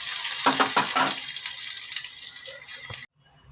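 Garlic fries in a pan for mango dal with a bright, close sizzle and a few stirring scrapes in the first seconds, then the hiss continues before cutting off abruptly near the end.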